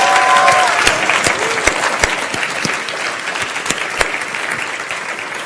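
Audience at a FameLab science communication final clapping loudly for several seconds, dense close applause from a crowd that thins slightly toward the end.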